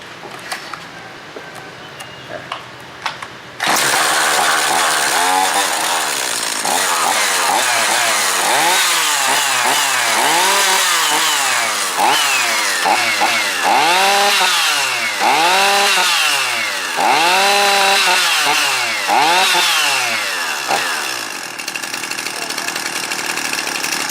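A chainsaw engine starts after a few seconds, then revs up and down repeatedly in loud rising and falling bursts.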